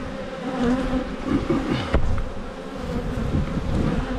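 Honey bees buzz around an opened, abandoned beehive whose frames lack foundation: a dense, steady swarm drone at close range, with a sharp knock of frame handling partway through.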